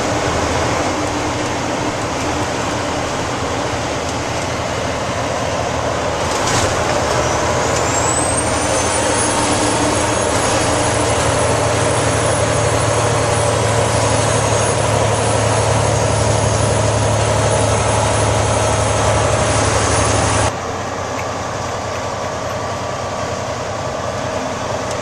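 Semi truck engine labouring up a mountain grade, a loud, steady diesel drone with a rising high whine that holds for long stretches, then drops away near the end while the engine note continues.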